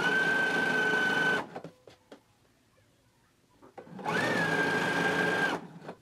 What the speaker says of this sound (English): So that is how we're going to be sewing our drawstring.